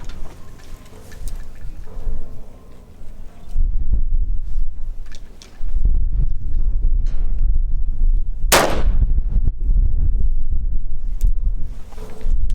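6.5 Grendel rifle firing 100 grain Barnes TTSX bullets outdoors: a few loud, sharp shots with booming tails and wind noise between them, one especially crisp crack standing out near the middle.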